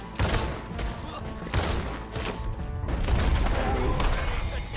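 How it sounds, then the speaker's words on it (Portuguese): Gunfire in a zombie apocalypse mod of Red Dead Redemption 2, dense bursts of shots and thuds mixed with game noise, with excited talk running over it. "Não é que o tiroteio é insano."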